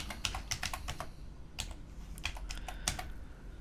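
Keys on a computer keyboard clack in quick bursts of several strokes with short pauses between, close and fairly soft over a low steady background hum.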